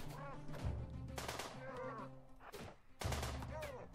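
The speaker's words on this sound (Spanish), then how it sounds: "Benditas ametralladoras" Machine gun fire in RimWorld, loud rattling bursts of rapid shots coming in several clusters, mixed with other game sound effects.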